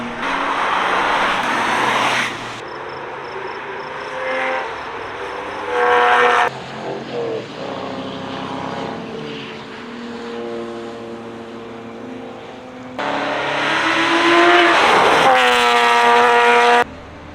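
A Mercedes AMG race car roars past on a motorsports park track during a track day, loud engine note rising and falling through gear changes, with other cars passing nearby.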